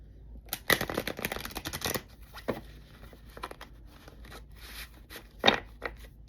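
Angels of Hope oracle cards are shuffled in quick papery riffling bursts, a dense flurry up front followed by a few softer, scattered flicks and one sharp snap near the end, close by and with no talk.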